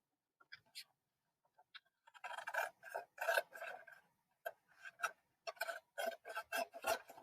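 Paper being cut with scissors, a few sparse snips at first and then a quick run of crisp, close cutting strokes, with no speech over it.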